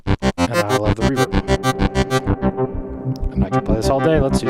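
A Moog Grandmother synthesizer plays a rapid arpeggio of evenly pulsed, bright tones drenched in reverb, loud and close, with the sequence shifting pitch and texture partway through.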